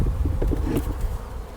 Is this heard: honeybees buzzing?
yes